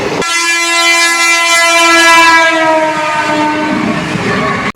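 A train passes a closed railway level crossing on a rainy day. A loud, sustained horn blares close by over rumbling wagons, then fades into steady running noise.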